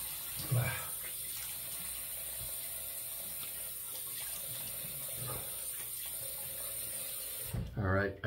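Tap water runs steadily into a sink to wet the face before a shave, a constant close rush with a splash near the start and a louder burst of splashing at the end.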